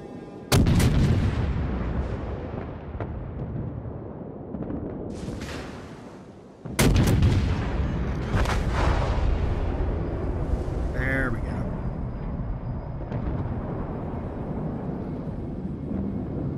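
Warship guns fire in a World of Warships naval battle. Two heavy booming salvos land several seconds apart, each rolling into a long rumbling decay, with fainter shots and game sounds between them.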